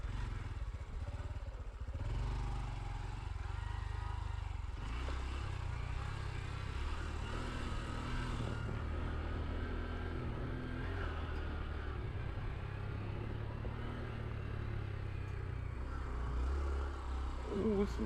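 A 2024 Honda Trail 125 motorcycle climbs a steep off-road hill, its small engine droning steadily and close with some clatter, while a rider talks over it at times.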